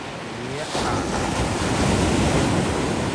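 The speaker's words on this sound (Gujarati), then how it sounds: "એમ મોજો ભાંગે છે" Ocean waves crash and roar nearby, a broad rushing wash of surf with wind buffeting the microphone.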